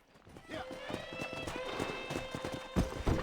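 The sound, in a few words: horse hooves in video game Red Dead Redemption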